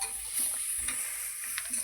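Curry leaves sauté in a pan for paruppu sadham, a close, steady sizzling hiss with a couple of soft stirring clicks, brief and without speech.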